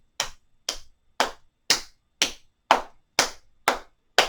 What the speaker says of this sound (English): Make a fist, punch into that open palm.